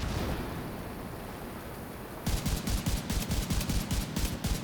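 Rapid bursts of mortar and gunfire from a firefight in The Division 2 break in suddenly after a steady low rumble, continuing as a loud, rhythmic series of booming shots.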